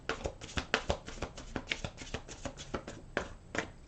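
Angel cards being shuffled by hand, a quick run of soft, crisp riffling snaps and flutters, close and quiet, with no talking.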